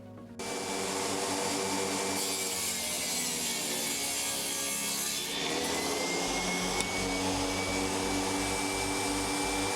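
In a workshop, a power saw trims wooden strips for built-in cabinets. The motor spins up to a loud, steady whine that holds for several seconds while the cut goes through, with no voices.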